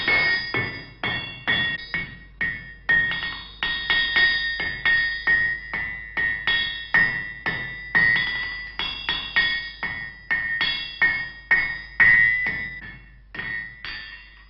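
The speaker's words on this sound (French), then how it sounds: "les coups de marteau du maréchal Ferrand, quelques hennissements" Farrier's hammer striking metal at horse stables, a long run of bright ringing clanks with a steady rhythm, some in quick pairs, close and clear.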